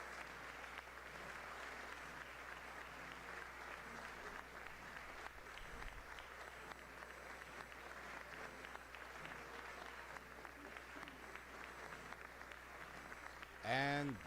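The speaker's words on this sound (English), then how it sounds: "Dominic LeBlanc also there applauding." Steady applause from a crowd runs throughout, dense and even, with a brief louder burst near the end, at a Canadian Liberal government cabinet shuffle ceremony.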